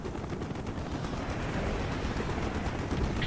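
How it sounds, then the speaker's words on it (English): Anti-aircraft gunfire in a Call of Duty Black Ops aircraft mission, a dense continuous rumble of rapid bursts and explosions filling the scene at steady loudness throughout. "Taking AAA fire!"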